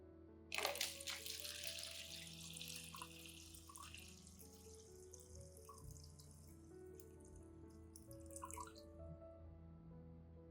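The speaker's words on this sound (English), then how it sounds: "Filter out the clear rice water to use in the next steps." Rice water pours in a bright splashing stream at first as it is filtered, then trickles and drips more quietly, close and alone with no talking.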